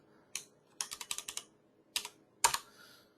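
Computer keyboard typing during a webinar: a single key tap, then a quick run of clicking keystrokes, a pause, and two more short presses, close and clear over a quiet background.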